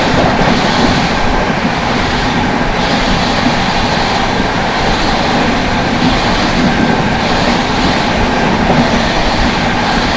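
The New Delhi–Sealdah Rajdhani Express rushes past close by. A loud, steady roar of rolling coaches and wheels on rail is broken by rhythmic clatter, with no voices.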